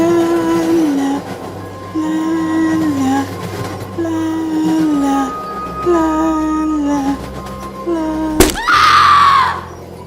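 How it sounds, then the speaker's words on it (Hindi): A girl on a train strikes a pole with a sharp crash near the end, followed by a loud rising scream, after a hummed melody and an ongoing rumble of the moving train. "अचानक वो लड़की एक पोल से टकराकर ट्रेन के अंदर गिर पड़ी। अभय उसकी चीख सुनकर डर जाता है"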